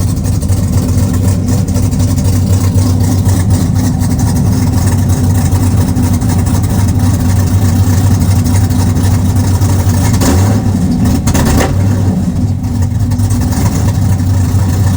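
A car engine idles loudly and steadily up close, with a deep constant rumble and a brief rise in revs near the end.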